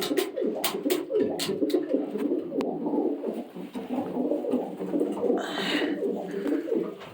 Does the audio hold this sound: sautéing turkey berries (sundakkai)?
no